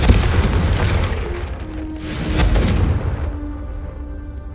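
A Confringo fire spell explodes in Hogwarts Legacy, giving a loud, deep boom with a rumbling tail, followed by a second burst and a fading roar, with no voices.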